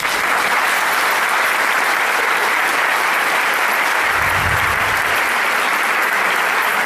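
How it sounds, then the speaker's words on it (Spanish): Sustained, dense applause from a conference audience fills the room evenly and loudly from start to finish after a speaker ends an academic talk. "muy merecido el aplauso para el doctor Isabelino Siere"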